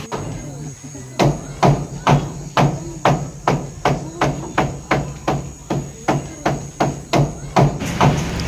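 Nails being hammered at a construction site, a steady run of about eighteen sharp, ringing strikes at an even pace, close and clear with faint background talk.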